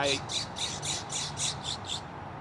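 A bird squawks in a rapid series of about eight harsh, repeated calls at an even rhythm, fairly close and loud over low background rumble, with a brief voice at the very start.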